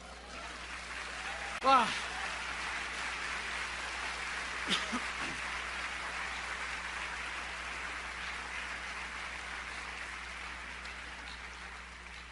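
A church congregation applauds during a sermon, a steady crackling wash of many hands clapping that holds for about twelve seconds, with a brief voice exclamation near the start.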